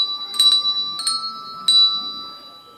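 A children's class plays hand bells: a few separate, bright ringing strikes come at an uneven pace, each leaving a lingering tone over a steady sustained note. No one speaks.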